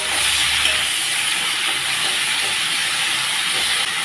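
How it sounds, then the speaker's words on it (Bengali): Cauliflower florets frying in hot oil with a little turmeric and salt, giving a steady, loud, unbroken sizzle and hiss with no one speaking. "গরম তেলের উপরে দিয়ে দিচ্ছি কপিগুলো, সামান্য হলুদ গুঁড়া, সামান্য লবণ দিয়ে আমি কপিগুলোকে এখন হালকা করে ভেজে নেব।"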